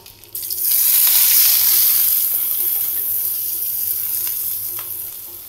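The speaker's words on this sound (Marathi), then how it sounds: "आता हे कांदा टाकून घेते, आता कांदा भाजायचा।" Chopped onion dropped into hot oil with cumin and mustard seeds for egg bhurji, bursting into a loud, steady sizzle that stays strong and continuous with a slight fade.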